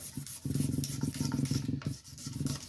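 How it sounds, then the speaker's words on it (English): A power sander works over the body of a Carvin DC135 guitar during a restoration. It gives a rhythmic, rasping stroke-by-stroke rub with a low motor hum beneath, faint and steady, with a brief pause near the end. "I'll hit it with a sander."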